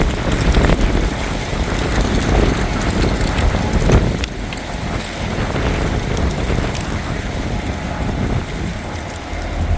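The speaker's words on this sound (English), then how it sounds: "Nothing I can really do about the wind" Strong wind buffets an outdoor microphone in a steady, loud, close roar with gusting low rumble throughout, no one talking.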